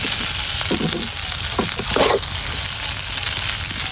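Leftover rice frying in a pan in a rural village kitchen, a steady soft sizzle with a few scraping stirs of a spatula, close and without talk.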